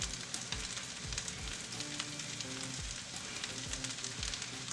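Soy sauce and sesame oil sizzle steadily in a pan of chicken fried rice, a dense continuous crackle with occasional soft scraping thumps from stirring, no voices.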